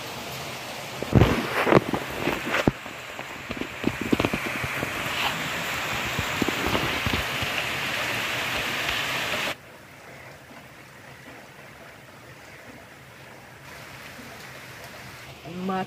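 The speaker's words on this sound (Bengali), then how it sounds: "দেখছি আরও জোরে বৃষ্টি এলো।" Heavy rain pours steadily outside, a dense wash of noise with a few brief louder knocks early on, then it drops to a quieter, softer hiss for the remaining seconds.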